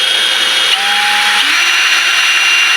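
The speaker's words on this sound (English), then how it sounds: "drilling into his car." A power drill whines steadily as it bores into the body of an 8th generation Honda Civic Si, loud and close, its pitch shifting slightly midway as the bit works through the metal.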